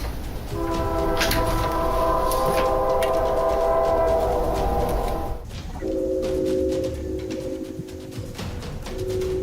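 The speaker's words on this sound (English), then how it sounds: "this late night train is heard in all of his videos" A late-night train passes on nearby tracks, with long sustained horn blasts over a steady rumble of rolling cars, fairly loud and close, with no voices.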